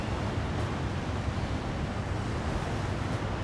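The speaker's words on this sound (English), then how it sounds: "Wow, there's some big waves." Big ocean waves crash during an Alaskan storm at sea, heard from a fishing vessel: a steady, dense roar of surf and wind buffeting with no pauses and no voices.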